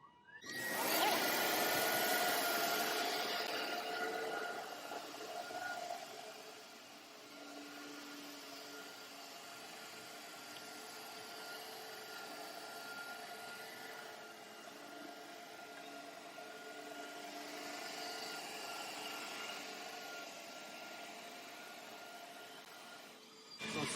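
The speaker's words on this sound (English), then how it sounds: "I'm going to turn the vacuum on. And then it's going to continue to put down water and scrub" A Tomcat Carbon 29C cylindrical scrubber dryer scrubs and vacuums a floor, a loud whirring rush starting abruptly, then settling into a steady droning hum with motor tones, swelling again later, no voices.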